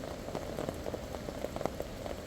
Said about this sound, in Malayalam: മഴക്കൽപ്പം ശമനമുണ്ടായി.